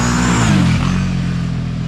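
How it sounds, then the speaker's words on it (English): An off-road vehicle's engine revs hard on a trail during a wheelie attempt, a loud close roar with a rising then falling pitch that settles into a steady drone. "That was a weak attempt at a wheelie."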